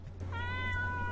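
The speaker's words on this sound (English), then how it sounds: "the cat is going to meow at me." A cat meows in a single drawn-out, steady call with a low hum beneath, close and clear with no talking.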